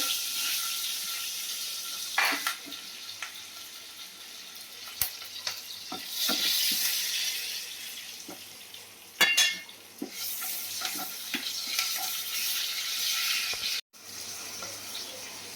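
Bottle gourd and potato sizzle and fry in ghee as a utensil stirs and scrapes the pan in bursts, with some splashing of water nearby.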